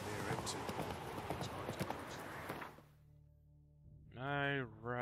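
Horse hooves clip-clop at a steady walking pace in The Witcher 3 video game, a brisk rhythmic patter that stops midway, followed by a short voiced line near the end.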